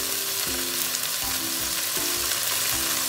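Mussel soup sizzles steadily and loudly in a pan after fish sauce goes in, a dense, continuous frying hiss with faint low knocks of stirring beneath it.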